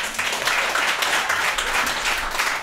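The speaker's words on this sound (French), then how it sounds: "on peut l'applaudir!" A live comedy audience at ComediHa! applauds co-host Chuck le Duc Thompson in a steady, dense wash of clapping that holds at an even level throughout.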